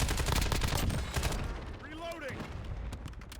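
Rapid bursts of gunfire in the video game Warzone, loud and crackling through the first second and a half, then fading under a steady game soundscape with a brief tonal sweep.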